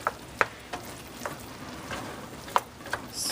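A spoon stirs kimchi rice and chicken in a pan, with quiet sizzling broken by a few sharp scrapes and taps of the utensil, alone and close.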